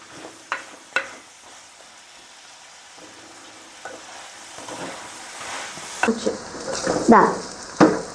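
Onions sauté in a pan for egg curry, a soft sizzle building as a spoon stirs and scrapes intermittently, the stirring growing louder toward the end.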